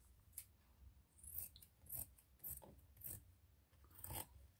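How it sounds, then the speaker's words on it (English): Scissors cut away excess material from a box-framed wall decor piece, making about six soft, evenly spaced snips close by in a quiet room. "you're going to cut off what you don't need."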